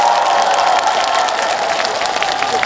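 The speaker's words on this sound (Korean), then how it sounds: "박수 한번 주시겠어요?" An outdoor audience at a Buddhist temple mountain concert claps loudly and steadily, a dense wash of many hands applauding without a break.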